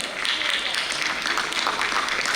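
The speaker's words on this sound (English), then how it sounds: "Round of applause" A dense, steady wash of audience applause fills a regional ecosystem conference hall, many hands clapping together at an even, sustained level with no break.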